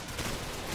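Distant, muffled gunfire in Call of Duty 4: Modern Warfare, a soft continuous rattle of shots from a battlefield firefight heard at low volume with no clear individual bursts.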